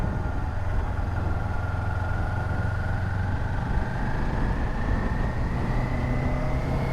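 Kawasaki Ninja 400 motorcycle engine under way on the road, a steady mid-pitched drone whose tone climbs slowly with speed, loud and continuous, with no talk over it.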